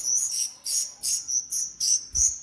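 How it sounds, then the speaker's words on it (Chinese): Four rescued young birds, raised after being found by a river, call loudly and shrilly in quick repeated bursts of high chirps, close by with no talking. "你们4个家伙，叫得我耳朵都嗡嗡响了"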